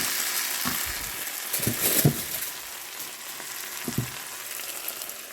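Minced meat sizzles steadily in a hot pan, a constant crackle with a few louder stirring scrapes and clatters, no voices over it.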